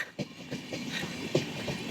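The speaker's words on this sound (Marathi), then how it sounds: "मागे ट्रेन पाहू शकता तुम्ही" A train passes behind a roadside walk in Goa, heard as faint rhythmic clattering and rumble from moderately far away, quiet and without speech.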